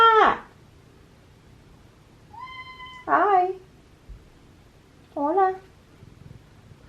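A pet cat meows three times close by, short clear calls spaced a couple of seconds apart, with a woman's brief greeting in between.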